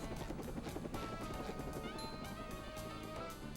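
In the SpongeBob SquarePants Movie video game, a helicopter whirs with a fast steady rotor chop, faint and continuous throughout.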